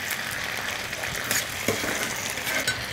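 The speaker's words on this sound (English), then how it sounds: "I'm going to add that into my taters while they're frying too." Potatoes with finely chopped onion fry in hot oil in a home kitchen, a steady close sizzle and crackle running throughout with a few brief stirring clicks.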